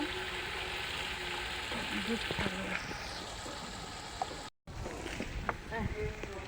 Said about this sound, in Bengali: এখন ভেজে রাখা মাংসগুলি দিয়ে দিলাম এটার সাথে কষানোর জন্য